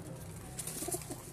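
A breeder's pigeon sitting close by gives a brief soft coo, a few low murmuring notes over a quiet background hum.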